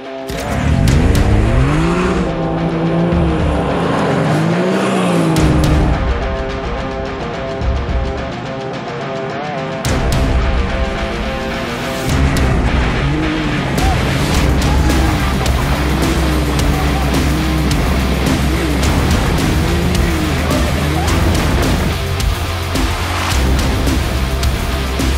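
A small off-roader drives hard with whining, revving engine tones that rise and fall, tire squeals and skids, loud and close throughout with brief drops in level.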